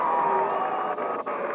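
A big crowd at a 1997 high school basketball game between Glendale and Kickapoo roars in a steady, dense wash of cheering and whooping filling the gym, heard from within the stands for a brief moment.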